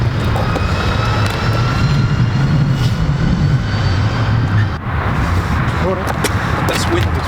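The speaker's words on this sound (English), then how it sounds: "That's wind as well." Strong wind gusts across a microphone on a beach, producing a loud, continuous low rumble and buffeting with a brief dip midway.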